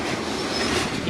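A long freight train rolls past close by, a dense steady roar of wheels and rail noise with faint squeal, continuous through the moment.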